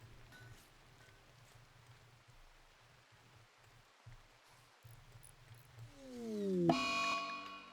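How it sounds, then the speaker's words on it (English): Steady soft rain patter fills a RimWorld colony scene, a constant low hiss through most of the stretch, with a brief bright rising chime near the end. "While it's raining."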